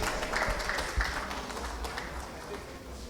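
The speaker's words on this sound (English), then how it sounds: "I request the audience to kindly acknowledge and give a huge round of applause for our moderator." A conference audience at a national semiconductor sovereignty event claps for the moderator, a continuous round of applause that is strongest at the start and slowly fades, with some murmur mixed in.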